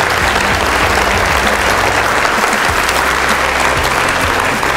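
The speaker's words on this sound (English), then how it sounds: "Give yourselves a yeah. round of applause, because you deserve it." A convention audience bursts into sustained, loud applause, a dense wash of clapping from a large crowd that holds steady throughout without pause.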